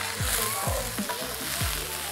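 Spinach sautés with garlic in a cast iron pan in a dense, steady sizzle, with a few soft stirring thumps and scrapes up close.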